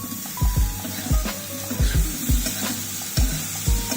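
Homemade paneer sizzling in a hot pan as it is stir-fried with vegetables, with a steady frying hiss broken by repeated sharp scraping stirs roughly every half second, close and fairly loud.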